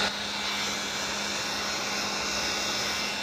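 A heat gun blows hot air steadily at close range over carbon fiber wrap on a Tesla Model X, a loud, even, breathy roar with a faint underlying hum and no pauses.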